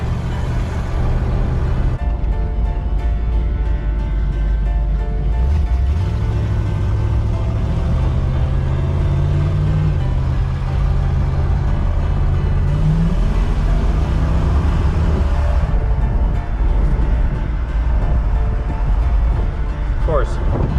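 Close cabin sound of a 1969 Buick Skylark engine under way, a low steady rumble that climbs through a rising pitch sweep, falters in a carburetor dead spot, then picks up again, with a voice talking briefly over it.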